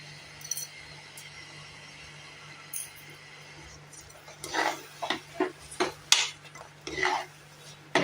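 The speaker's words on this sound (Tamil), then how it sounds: "நல்லா எல்லாத்தையும் நல்லா கலந்து விட்டுருங்க." Moong dal and rock salt being stirred in a pressure cooker for rava pongal: a quiet start, then repeated metallic scrapes and clinks of a spoon against the pot in an uneven rhythm.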